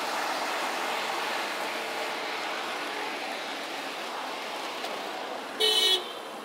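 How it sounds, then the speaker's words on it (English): A car horn in city traffic in Bilbao gives one short honk near the end, rising over a steady wash of traffic and street noise heard from a bicycle. "Got our first honk."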